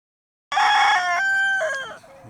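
A white rooster crows once, loud and close, a long harmonic call that rises, holds, then trails off.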